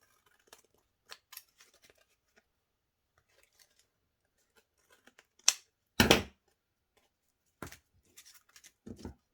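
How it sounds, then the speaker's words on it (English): Scissors snip the edges off paper scraps during a journaling card craft project. Brief, scattered clicks lead to a few louder, crisp cuts, heard close by in an otherwise quiet room. "I'm going to snip off those edges."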